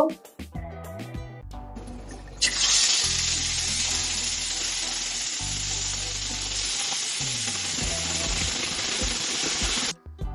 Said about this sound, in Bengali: এখন চিংড়ি মাছটা ভেজে নিব